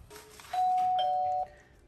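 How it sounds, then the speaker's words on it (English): A home doorbell chimes once, a clear sustained electronic tone that rings steadily for about a second and then cuts off, heard close and alone against a quiet room. "The doorbell's ringing, and I can answer it right from the panel"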